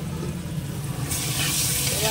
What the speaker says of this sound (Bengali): এদিকে ডিম আলুটা ভাজতে দিয়েছি